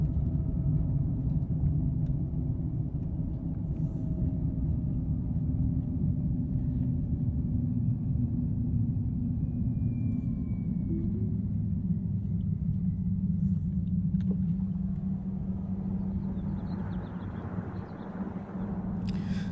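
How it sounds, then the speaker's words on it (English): Road noise inside a widebody Tesla Cybertruck cabin on 26-inch wheels fitted with low-profile mud tires: a continuous low rumble with a faint tire whine, steady for the whole stretch with no talking. "those big tires have a big whine because they're mud tires on 26-inch, very low profile"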